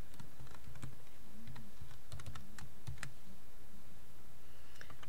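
Someone types login details on a computer keyboard: a close burst of quick keystrokes for about three seconds, then a few sparse clicks, with no voices.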